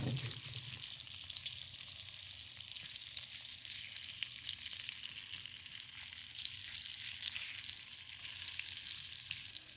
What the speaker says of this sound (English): then we're gonna put that shrimp in it to brown them.